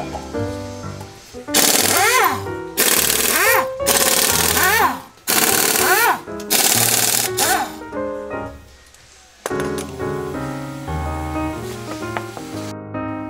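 A power tool removes the front wheel of a raised Cadillac Eldorado in a series of loud, rattling bursts, several in quick succession, followed by quieter mechanical noise.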